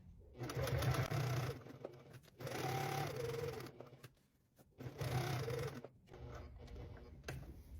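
Sewing machine running in several bursts as it stitches and backstitches, a close whirring hum with rapid needle ticking, stopping briefly between passes.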